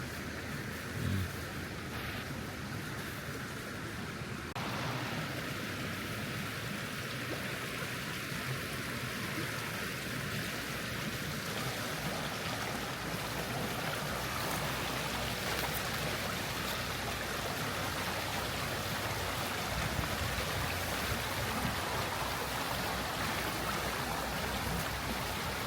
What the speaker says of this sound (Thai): นี่น้ำไหลงาม